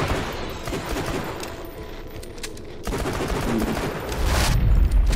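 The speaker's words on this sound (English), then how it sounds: "I missed every single fucking shot" Repeated bursts of video game gunfire from Tiny Tina's Assault on Dragon Keep, a Borderlands shooter, loud clattering volleys that build toward a heavier boom at the end.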